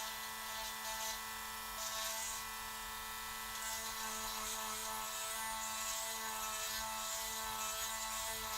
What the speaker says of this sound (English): we're going to go all the way around to get rid of those teeth marks. And it shouldn't take much. Just an easy sand.